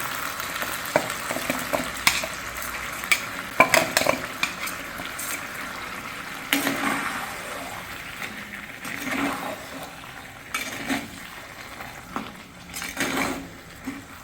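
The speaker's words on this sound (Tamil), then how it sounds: "இப்போ மசாலா வந்து கறி வந்து நல்ல எண்ணெயில் வெந்துடுச்சு" Masala and chicken fry in oil in a pot for a village-style chicken kulambu, giving a steady close sizzle with stirring scrapes and sharp metal utensil clinks scattered throughout, with no talking.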